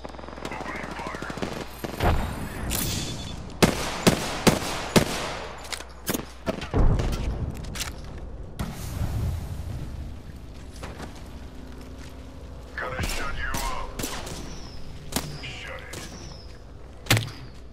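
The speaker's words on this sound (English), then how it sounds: "Opening fire." Gunfire in the video game Apex Legends, with repeated sharp bursts of automatic fire and single shots, loud and close, mixed with clunks and mechanical sounds amid game voice lines.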